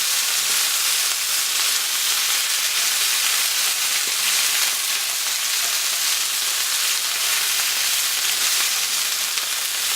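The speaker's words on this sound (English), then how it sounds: "Mix them up a little bit so that the ones that were on the top can now get some of that cooking that's on the bottom." Brussels sprouts fry and crackle in a hot pan, giving a steady loud sizzle with soft scraping as they are stirred, continuous and close with no voices.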